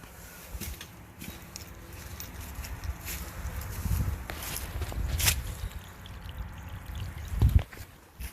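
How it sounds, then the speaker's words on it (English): Water draining out of a residential water heater, a continuous pouring and trickling flow with occasional splashes and knocks rising and falling over several seconds. "Alright, she's draining on her own."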